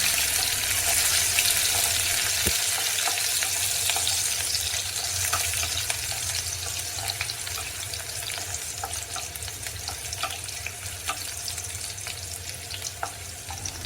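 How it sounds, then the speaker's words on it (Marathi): Garlic and three or four green chillies frying in oil produce a continuous, dense sizzle, with faint stirring clicks scattered through and one brief knock early on. "लसूण आणि मिरची ही तेलामध्ये छान भाजून झालेली आहे"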